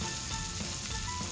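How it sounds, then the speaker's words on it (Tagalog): Rabbit bellies fry in hot oil with a steady, close crackling sizzle that holds evenly through the short moment. "Habang iniintay natin ma-prito ang ating rabbit bellies"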